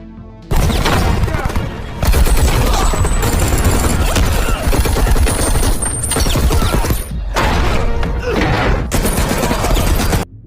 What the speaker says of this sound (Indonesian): pasukan tentara bayaran yang disewa oleh Danny datang dan terlibat baku tembak dengan Michael dan Ray